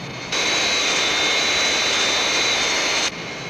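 Jet aircraft taking off in a Thunderbirds episode, a loud, steady roaring thrust that starts abruptly, holds constant and cuts off sharply.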